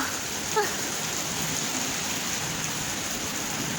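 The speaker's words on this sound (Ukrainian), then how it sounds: "Дощ іде." Steady rain falling outdoors during a fishing trip, a dense, even hiss that carries unbroken through the whole stretch, fairly loud and close, with no voices.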